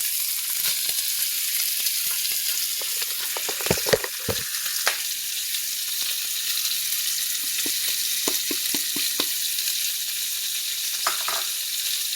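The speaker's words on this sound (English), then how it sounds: "I'm going to grab the onions. I'm going to toss them in." Onions frying in a hot pan give a loud, continuous hiss and crackle, with a few sharper spatters and clinks from stirring breaking through the steady sizzle.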